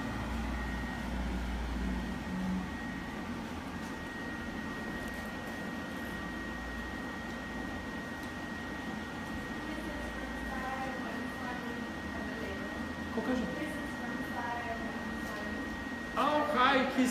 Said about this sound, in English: I use the less power of the dryer because I want to have coat under control.